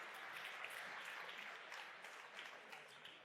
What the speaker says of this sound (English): Big applause for Jesus.